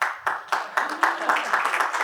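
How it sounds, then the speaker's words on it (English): Scattered applause from a startup event audience, bursts of clapping recurring in quick pulses over about two seconds, fairly close and clear. "Emil's always good for some applause, right?"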